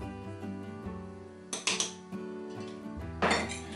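Eggs and caster sugar for a génoise sponge are tipped into a mixing bowl, giving a few sharp clinks and knocks against the bowl over soft background music.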